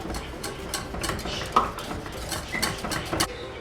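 A spoon scrapes and clinks against a pot of cake cream in quick irregular strokes, close and fairly quiet.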